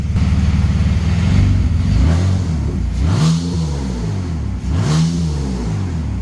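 BMW E46 engine fitted with headers and no exhaust, idling with a rough burble and then revved several times in rising and falling sweeps, close and very loud.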